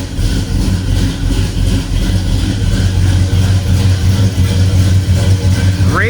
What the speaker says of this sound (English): But let's fire it up, hear this baby roar.